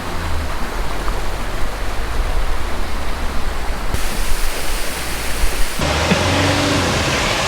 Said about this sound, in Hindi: इसमें जो पानी के छींटे हैं वो पूरे यहाँ तक आ रहे हैं।